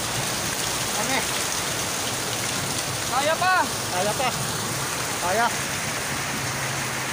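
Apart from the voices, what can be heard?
heavy rain with lightning and thunder on Tagaytay road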